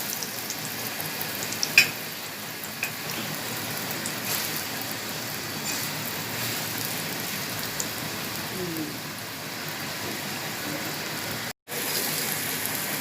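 Mooli paratha frying on a hot griddle over low to medium heat gives a steady, even sizzle throughout. There is one brief cut near the end, and no one speaks.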